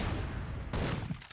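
Carnage cannons firing in the game Myth II: Soulblighter during a WWII-themed tournament match, a rumbling barrage with a sharp blast about halfway through followed by further thuds, loud and close.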